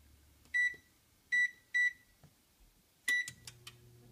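An oven's control panel gives three short electronic beeps, then a fourth after a pause, followed by the low hum of the oven starting up as it is set to preheat to 400 degrees. Quiet, close and without any talk.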